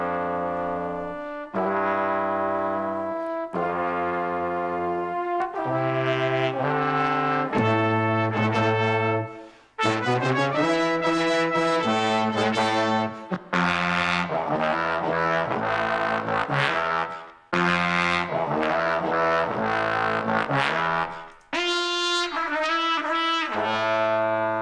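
Brass section built up from a single improvised trombone part layered at shifted pitches, playing loud sustained chords and punchy hooks continuously with brief breaks between phrases and no voices.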